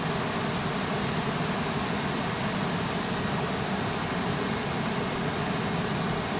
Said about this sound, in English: you've still got planes taking off and doing what there needs to do